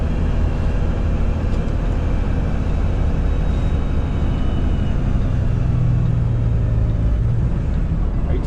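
A car drives at night on the way to an overnight camping trip, a steady loud engine and road rumble from inside the cabin with no talk.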